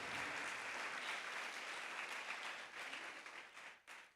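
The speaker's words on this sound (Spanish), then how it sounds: "Dele un aplauso al Señor" Church congregation clapping for the Lord during a Spanish sermon: a dense, even round of applause that thins out near the end, with one last burst of claps.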